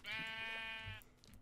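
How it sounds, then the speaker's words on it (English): A sheep in the Minecraft video game gives one clear, close bleat lasting about a second, followed by faint background sounds. "Get out of my way, sheep."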